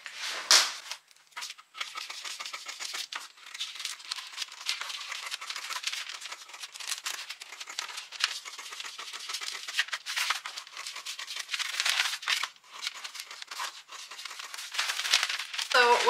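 Scissors cut out a paper sewing pattern for a blouse, giving close, intermittent crisp snipping and crinkling of paper throughout at moderate loudness.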